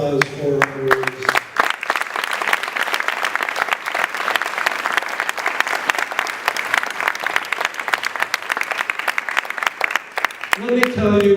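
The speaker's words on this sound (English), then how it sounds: "please join me for one more round of applause for our awards" Dense, steady applause from an audience at a distinguished alumni awards ceremony fills most of the stretch, with someone speaking briefly before it swells and again as it fades out.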